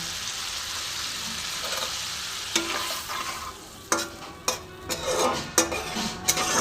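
Egg curry (dim chorchori) sizzling in a pan after a small bowl of water goes in, with a steady frying hiss broken by several sharp clinks and scrapes of a spoon stirring against the pan; no talking.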